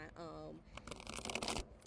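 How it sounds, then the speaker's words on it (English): A tarot deck is given a real shuffle, its cards riffling and rustling quietly close by, while someone talks over part of it. "I'm actually going to do a real shuffle here"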